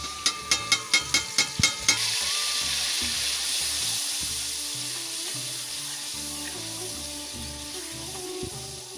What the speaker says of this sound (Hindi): हमारा मसाला कितना अच्छा भुंज रहा है, भुंजने वाला है, जल्दी ही भुन जाएगा।